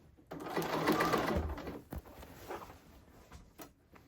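Sewing machine stitching the shoulder seam of a blazer, the front piece on top with more fabric beneath; a close, steady motor hum runs for about a second and a half, then gives way to quieter handling knocks.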